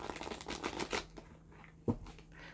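Tarot deck being cut and shuffled: a quick run of papery riffling flicks over the first second, then a single sharp card slap near the end, close and fairly quiet, no voices.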